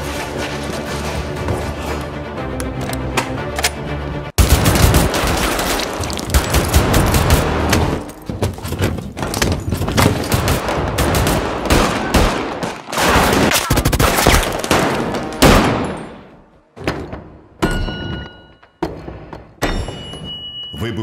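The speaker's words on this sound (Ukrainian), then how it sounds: "Іде бій від даху до даху кулеметами," Machine-gun and rifle fire in a rooftop battle from the 1918–1919 fighting of the Ukrainian Galician Army: loud, dense rapid bursts and heavy thuds that continue for a long stretch, then thin into scattered shots.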